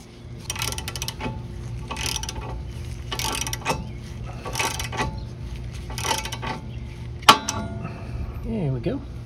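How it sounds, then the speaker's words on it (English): Tie rod puller being worked on the steering of a Toyota Corolla, close repeated ratcheting clicks in regular bursts over a low steady hum, with one sharp metallic clank near the end. "put the tie rod puller on it"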